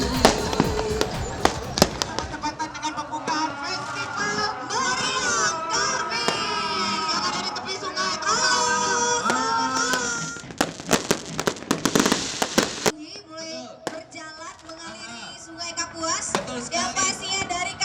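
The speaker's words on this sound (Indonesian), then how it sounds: "festival dengan meriam karbit terbanyak dan menjadi satu-satunya di dunia" Dense, crackling bursts of loud carbide cannon booms going off one after another at a nighttime Eid al-Fitr festival, with sharp cracks and a busy festive crowd din throughout.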